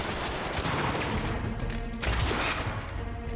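Dense, continuous gunfire in the video game The Order: 1886, a loud rattle of overlapping shots filling the whole moment with no voices.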